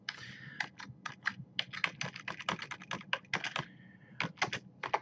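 Rapid typing on a computer keyboard, a dense run of crisp close key clicks in quick bursts with short pauses, no speech.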